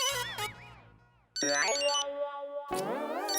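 A mobile phone ringtone plays as a melodic electronic tune, loud and close, in short phrases with a brief gap between them, no talking over it.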